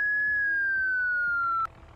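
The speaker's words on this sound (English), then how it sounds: "How do I turn this siren off?" Vehicle siren in the zombie survival game Project Zomboid, a single loud steady electronic tone sliding slowly downward for about a second and a half before cutting off abruptly.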